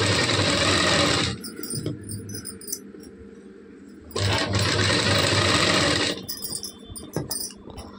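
A sewing machine stitches piping along a garment neckline, running in two loud, steady whirring bursts separated by a quieter pause filled with small handling clicks.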